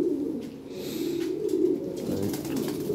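Lahori pigeons cooing in low, throaty rolling calls, a steady murmur of several birds close by at moderate volume, with faint background noise.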